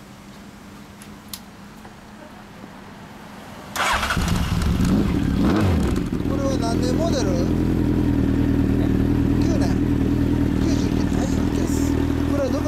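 A Honda CB1300 Super Four motorcycle with a Moriwaki Zero exhaust starts up with a sudden roar, then idles loudly and steadily with a deep throaty exhaust note while a person speaks briefly.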